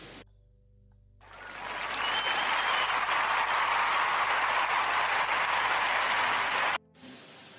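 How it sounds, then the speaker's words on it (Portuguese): An audience at a live radio podcast show breaks into a loud burst of applause that swells in after a short quiet gap, holds as a dense wash of clapping for several seconds, then cuts off abruptly. "salva de palmas, por favor"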